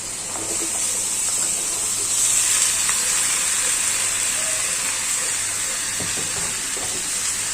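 Pointed gourd, sponge gourd, ash gourd, sweet potato and other mixed vegetables cook in hot spiced oil in a home kitchen, giving a steady close sizzling hiss throughout with faint clinks of stirring and no talk.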